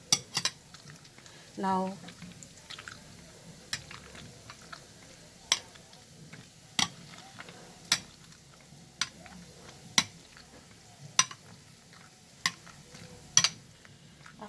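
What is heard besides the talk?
mashing roasted eggplant for baingan bharta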